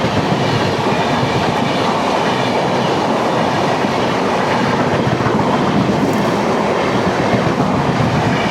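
Ernakulam–Patna superfast express train passing close by, a loud continuous rush of wheels and carriages with rhythmic clickety-clack, no voices.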